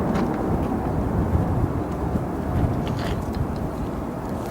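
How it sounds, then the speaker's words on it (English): An Aer Lingus airliner banking on approach to Chicago O'Hare airport, a continuous low jet rumble and roar at a distance, steady throughout with wind-like broadband noise. "the Aer Lingus is banking towards us right now."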